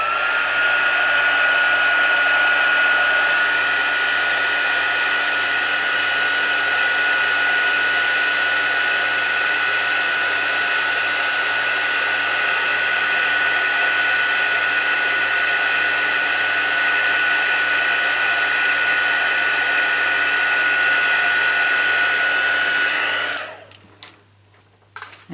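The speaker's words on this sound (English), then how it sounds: "Now I'm going to use my heat tool on this." A handheld heat tool blasts a steady, loud whooshing roar with a faint high whine while melting embossing powder for a card, running unbroken for over twenty seconds before switching off abruptly.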